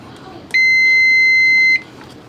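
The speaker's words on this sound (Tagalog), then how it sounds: "O may buzzer siya." A multimeter continuity buzzer sounds while testing a Carrier aircon circuit board: one loud, steady, high electronic beep lasting just over a second, set against quiet room background.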